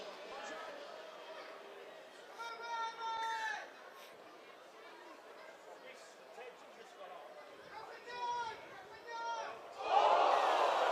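Home crowd at a Newcastle Thunder rugby league match, a distant murmuring stadium hubbub that swells into roars and groans in bursts, with a commentator talking over it and a loud surge near the end.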